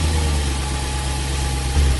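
A tractor engine running, a steady close idling rumble with low throbbing vibration that holds evenly throughout without pause.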